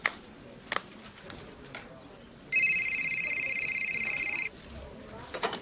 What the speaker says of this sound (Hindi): I am dialling your number, here it goes.